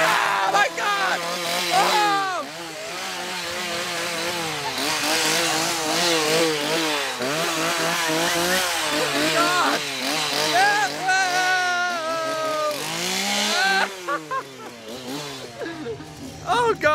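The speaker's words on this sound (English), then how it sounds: "There's a chainsaw." A chainsaw revs inside a haunted horror attraction tent at Hinchingbrooke House in 2019, its rising and falling buzz running under frightened shouts, screams and chatter from nearby visitors.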